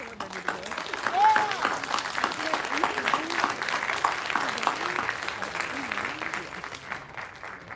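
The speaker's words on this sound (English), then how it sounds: "give them a round of applause and thank them" Audience applause at a university graduation hooding ceremony for the Class of 2024, steady dense clapping from a large crowd lasting throughout, with faint voices and a brief whistle-like tone mixed in.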